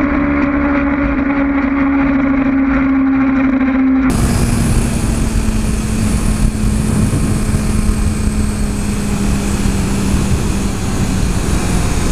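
Engine of a 2014 Honda CBR650F motorcycle while riding with variable revs, a steady droning hum with a pitch drop around four seconds, continuous and loud with wind rush.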